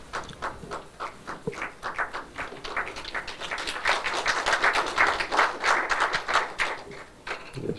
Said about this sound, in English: Just heard some applause on the adjoining table